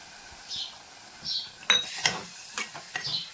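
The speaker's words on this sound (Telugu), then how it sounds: "ఇప్పుడు ఇందులోనే నేను టమాటాలు కూడా వేస్తున్నాను." Tomatoes go into a pan of frying mutton, mango and brinjal curry, with a few sparse metallic scrapes and clinks of a utensil against the pan and a faint sizzle in a quiet kitchen.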